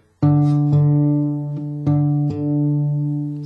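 Guitar harmonics ring out in pairs, four bell-like chimes struck one after another and left to sustain while the strings are compared for tuning.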